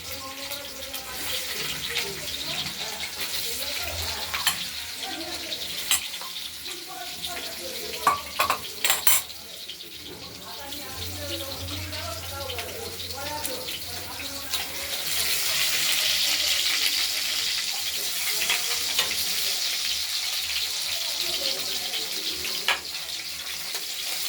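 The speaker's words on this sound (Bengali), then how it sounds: "আলুগুলো প্রথমে একটু ভেজে নেব।" Potatoes frying in hot oil for a cabbage curry with peas and tomato, a continuous close sizzle with stirring scrapes and clinks, the frying growing louder and hissier partway through.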